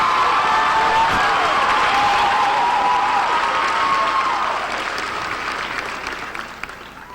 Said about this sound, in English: another warm round of applause for your 5 finalists for the title of Miss South Carolina